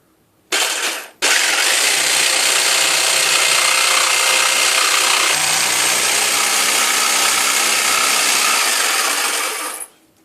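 A jigsaw cuts at about half speed, giving a loud, close, continuous buzzing rasp. A short burst comes first, then after a brief pause a sustained cut runs for roughly nine seconds before the blade stops.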